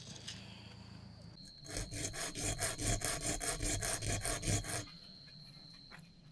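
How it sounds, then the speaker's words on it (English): Wooden edges are smoothed down during a skoolie bus build, a burst of about three seconds of rapid rhythmic rasping strokes, close and fairly loud, alone between quieter stretches. "Trying to get the edges smoothed down a bit."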